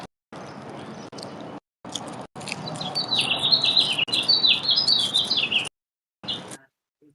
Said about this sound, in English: it's like the birds singing